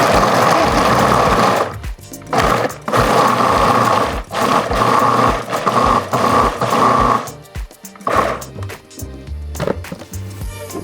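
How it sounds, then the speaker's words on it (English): A food processor pulses onions and garlic in repeated loud bursts of whirring chop, each a second or two long and separated by brief pauses, with a longer run near the start. "we are going to process in our food processor. And you pulse it until it's really small."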